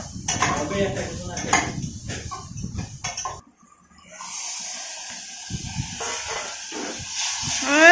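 A cooking pan being stirred at home with a metal spatula, giving scraping clatter and a steady sizzling hiss, loudest in the first three seconds, then a short pause before a softer hiss and scraping resume; voices talk intermittently.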